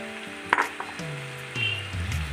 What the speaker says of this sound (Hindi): इस तरह से हमें भून लेना है।